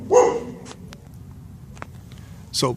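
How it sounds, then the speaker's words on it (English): Dogs bark at a distance in a home, giving a short yelp at the start and another bark near the end, faint and indistinct behind quiet room noise. "You'll have to forgive my dogs in the background."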